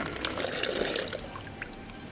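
Water being poured at home, a continuous close splashing and trickling that stays steady for about two seconds, with no talk over it.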